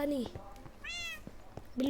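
A cat meows in the Minecraft video game, a single short in-game meow heard between bursts of someone speaking, fairly clear and close.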